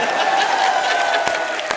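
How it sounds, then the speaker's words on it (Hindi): A comedy show studio audience breaks into steady applause and crowd noise, a continuous moderate wash of clapping with a couple of sharper claps standing out near the end. "ठोको ताली"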